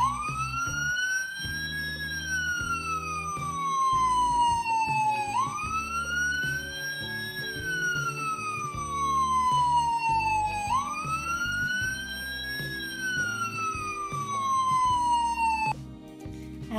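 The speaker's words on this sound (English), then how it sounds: "So, sirens and lights are okay" A mountain rescue 4x4 vehicle siren sounds loud and close, rising and falling in a steady repeating wail about every five seconds, with a constant engine hum underneath, then cutting off at the end.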